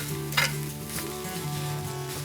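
Vegetables sizzle steadily in a hot pan while being stirred, with a brief louder scrape of the utensil early on and a continuous close frying hiss throughout.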